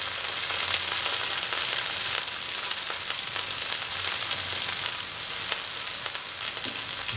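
Steady, loud sizzling of cinnamon leaves and green chili frying in hot oil for a mint cilantro chicken dry roast, a continuous bright crackle with faint stirring and no voices.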